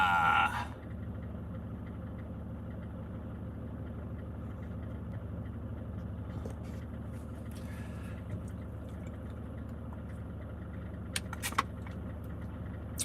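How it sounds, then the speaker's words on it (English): A car engine left running idles with a steady low rumble throughout, a few light jingles and clicks popping up over it near the end, and no speech. "I always leave the engine running, Cho."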